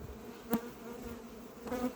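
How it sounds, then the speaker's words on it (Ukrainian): A honeybee swarm at the hives hums in a dense, continuous buzz, with individual bees flying close past the microphone for brief louder swells. The sound is outdoors, moderately loud and without talk. "Ну, це один тут рій."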